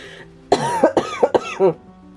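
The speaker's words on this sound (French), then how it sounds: "J'ai encore envie de tousser, je suis désolée." A close, hoarse fit of coughing: four or five rough coughs in quick succession, then quiet.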